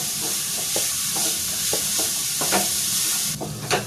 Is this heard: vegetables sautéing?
yes